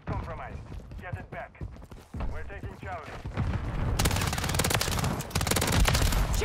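Call of Duty MW3 gunfire, with WSP Swarm SMG bursts among rapid shots and heavier firing that grows denser and louder toward the end, while a player's voice talks over the start.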